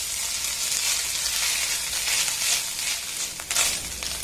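Dry fruits and grated coconut fry in a pan for a semolina and coconut sweet, giving a steady close sizzle with a few stirring scrapes near the end.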